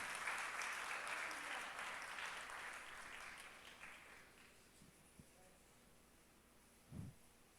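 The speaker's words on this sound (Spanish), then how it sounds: "Palmas a nuestro Señor." Applause from a church congregation rises loud at the start, then thins and fades away, leaving a quiet room with a couple of scattered soft knocks.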